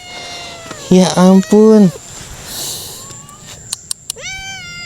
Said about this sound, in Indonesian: ada kucing lagi.